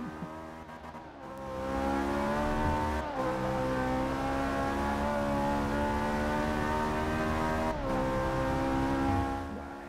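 Race cars, including a Ferrari 458, roar around Monza in the racing game Forza 6. A loud, sustained engine whine climbs through repeated gear shifts, and there is no talking.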